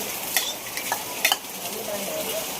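Garlic fries in a pan with salt as a utensil stirs it, a steady close sizzle broken by a few sharp scrapes and clinks of metal against the pan.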